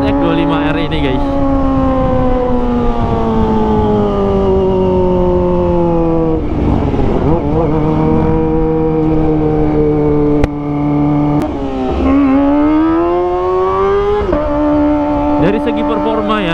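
Kawasaki ZX25R motorcycle fitted with an Arrow Pro Race exhaust, revving with a loud, sustained high-pitched engine note that rises and falls through several throttle blips.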